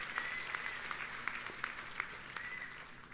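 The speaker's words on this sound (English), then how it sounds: "let's give him a big round of applause" An audience applauds a guest speaker at a live event, a fairly faint, steady patter of clapping with a few sharper individual claps standing out.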